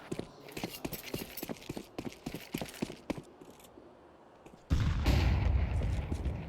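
Counter-Strike grenade explosions after a run of rapid gunfire cracks, then a heavy blast that leaves a loud sustained roar and rumble, close and dominant.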